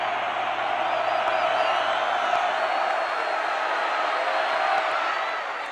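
A dense stadium crowd roars steadily and loudly throughout at a 1985 Alabama vs LSU college football game, a sustained wash of cheering.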